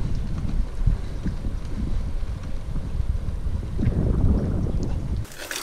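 Wind picking up by the sea on an island, a steady low roar and buffeting rumble across the whole stretch, close and fairly loud, easing near the end.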